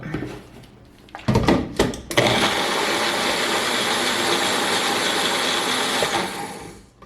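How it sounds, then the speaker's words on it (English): Magic Bullet blender mixing waffle batter ingredients, including baking powder: a few short bumps and pulses, then a loud, steady whirring motor runs for about five seconds and winds down. "Mix all that up in my magic bullet."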